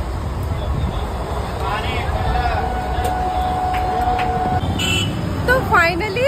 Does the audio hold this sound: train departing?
yes